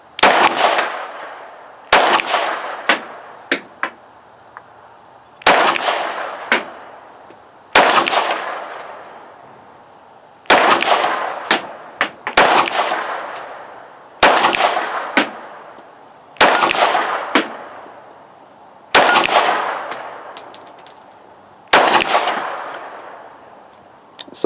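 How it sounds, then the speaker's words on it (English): Handgun rounds strike a steel target 30 yards away, eight sharp metallic clangs spaced a few seconds apart, each with a ringing decay and a few quieter clinks between, loud and alone with no talk. "the steel target over here is at 30 yards. So we're going to try to put a few rounds through this gun"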